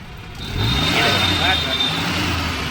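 A Maruti Omni van engine revs as the accelerator is pressed, a rough, steady roar rising and holding for a couple of seconds while someone speaks over it.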